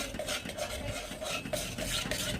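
Thick sugar syrup with fried cashews and coconut pieces being stirred for homemade chalividi, a soft repeated scraping and rubbing of a spoon against the pan in an uneven rhythm, close and quiet.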